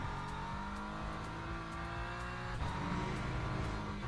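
A race car lapping Fuji in Le Mans Ultimate, its engine revving hard and rising in pitch through the gears, a brief shift dip midway before climbing again, loud and up close with faint tire noise.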